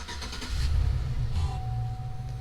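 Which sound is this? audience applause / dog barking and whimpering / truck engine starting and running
truck engine starting and running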